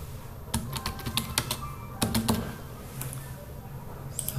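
Computer keyboard typing on a trademark registration form, quick clusters of light clicking keystrokes with short pauses, close and moderately quiet over a soft background hum, with no talking.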